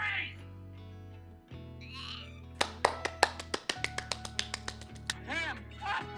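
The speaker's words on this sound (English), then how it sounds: "I'm clapping." One person claps their hands indoors, about fourteen quick, close, sharp claps in a steady rapid run, with talking before and after and a low steady hum underneath.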